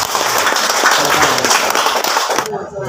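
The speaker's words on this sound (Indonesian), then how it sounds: "sekali lagi kita berikan tepuk tangan kepada" Brief burst of applause from a small crowd, steady and fairly close, ending abruptly after a few seconds.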